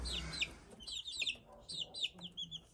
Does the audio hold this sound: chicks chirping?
yes